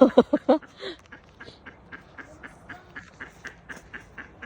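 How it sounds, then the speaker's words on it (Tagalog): Wild ducks quack outdoors in a park grove, a burst of loud calls up front followed by a steady series of fainter, evenly spaced quacks. "Yeah, they are wild ducks."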